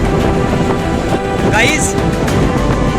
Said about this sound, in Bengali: গাইজ ঝড়ের গতিবেগ ভীষণ বেড়ে গেছে, প্রবল ঝড় আসছে।